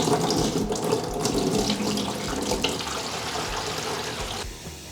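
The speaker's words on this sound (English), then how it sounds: "Slowly filling up, going pretty faster with the sink water versus the cup." Tap water runs steadily from a sink into the reservoir of a portable swamp cooler, a continuous close splashing and filling sound that cuts off near the end.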